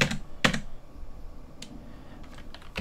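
Typing on a computer keyboard: a few sharp, close key clicks spaced irregularly over a quiet background.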